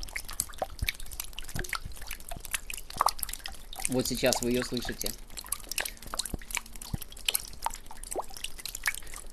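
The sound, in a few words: spring meltwater dripping, recorded on Zoom H1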